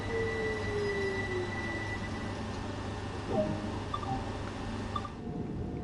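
A train in the Train Sim World video game, on the East Coastway line toward Brighton, rolls past with a steady rumbling drone, faint wheel squeals and a high whine, at a constant level with no voices.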